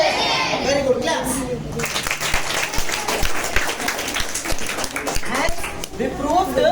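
Students clapping in a classroom during a school food-components experiment, a sustained patter of many hands lasting several seconds over general room noise with voices mixed in.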